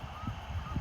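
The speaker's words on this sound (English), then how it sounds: "There's the geese." Geese honk near water by railway tracks outdoors, a few low, close honks in quick succession within a brief moment.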